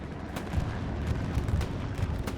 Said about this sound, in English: This is a 20-second bombing run going over the front line